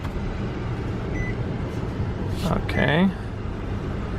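A 2009 Nissan Sentra idling after starting, a steady low engine hum running throughout, with a person speaking briefly over it.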